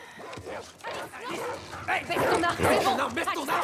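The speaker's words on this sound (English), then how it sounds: "These dogs have been trained to like tear scars apart" Trained dogs in the video game The Last of Us Part II yip, whimper and bark beneath someone talking steadily over the scene.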